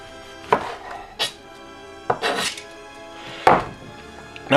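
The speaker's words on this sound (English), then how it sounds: "you want to take a knife, you want to cut, you want to take a sharp knife" A sharp knife slices through a chili pepper on a cutting board for puerco pibil, producing a handful of separate crisp cuts and thunks, close up, spaced irregularly with quiet gaps between them.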